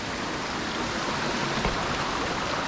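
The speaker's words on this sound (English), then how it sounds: "just a series of very small cascades" Water runs over a series of very small cascades in a forest creek, a steady close rushing wash with no other sounds.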